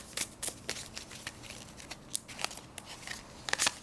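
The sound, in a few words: shuffling astrology cards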